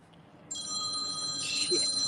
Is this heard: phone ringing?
yes